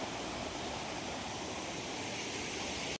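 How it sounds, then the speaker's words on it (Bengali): A waterfall flowing beside a road in the Dooars makes a constant, even rush of water. It is faint and unbroken throughout. "এখান দিয়ে একটা অসম্ভব সুন্দর ঝর্ণা যাচ্ছে"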